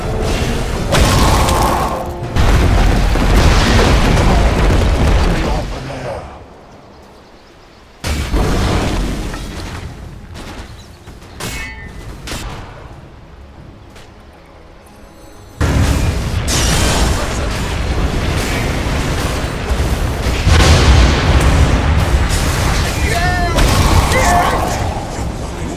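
Towers are destroyed in a Dota 2 match. Loud explosions and clanking mechanical bursts come in heavy stretches separated by quieter gaps, with an announcer's voice over the action.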